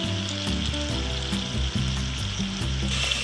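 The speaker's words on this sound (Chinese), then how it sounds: "锅中倒入底油，放入腌好的鸡腿肉，这边要注意鸡皮要朝下" Marinated chicken thighs fry skin-side down in a pan of oil, a loud, continuous, close sizzle with soft music running beneath it.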